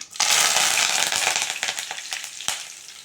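Curry leaves hitting hot oil with popped mustard seeds in a tempering, a sudden loud burst of sizzling that settles into crackling and spitting pops, close and alone.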